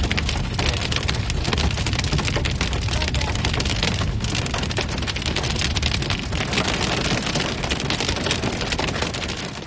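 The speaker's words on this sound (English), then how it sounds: "massive hailstones began to batter our vehicle" Tennis ball-sized hail from a supercell storm in Alberta pounding a vehicle in a dense, continuous roar of impacts. It sounds loud and close throughout, with destructive winds and no voices.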